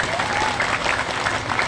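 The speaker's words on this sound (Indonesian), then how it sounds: "Oh ya, tepuk tangan dulu nggak apa-apa." A sermon audience claps together in a steady, continuous burst of applause, close and fairly loud, with a faint voice underneath.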